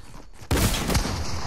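Sudden loud burst of rapid gunfire from the video game Fortnite, starting abruptly after a quieter lead-in and continuing as a dense barrage of shots, with no speech over it.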